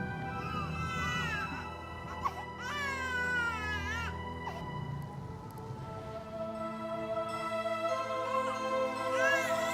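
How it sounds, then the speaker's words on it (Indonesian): An infant cries in high wavering wails, two long bursts with a pause between, over a steady background of other sound in an Indonesian drama scene. "Terdengar seperti suara bayi."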